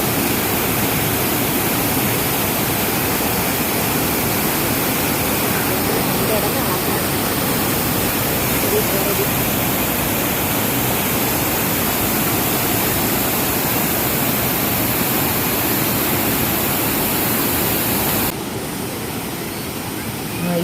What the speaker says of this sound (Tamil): அதே போஸ்டில் தான் போயிட்டு இருக்குது தண்ணி